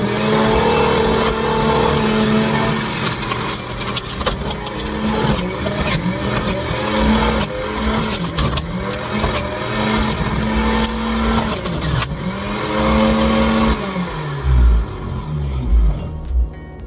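Juicer motor grinding steadily while vegetables are fed through it, a continuous loud whirring drone with uneven crunching and rough bursts, close by and without talking.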